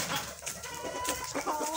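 A farmyard chicken in rural Albay province, Philippines, gives a few short clucks and bird calls close by, with other faint farm-animal sounds in the background and no talking.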